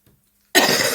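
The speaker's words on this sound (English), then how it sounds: "when I'm coughing, I'm still sounding terrible" After a moment of silence, one harsh, close cough bursts out and fills the rest of the second.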